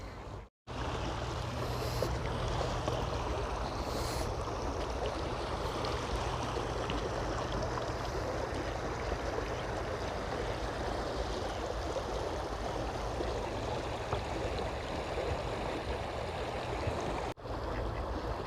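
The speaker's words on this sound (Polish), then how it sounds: "przez to, że woda przez nie przepływa, to chyba słyszycie, jak pięknie szumi." Continuous rushing of water flowing over stones in Vilnius, Lithuania, a steady broadband babble that fills the whole span at moderate volume.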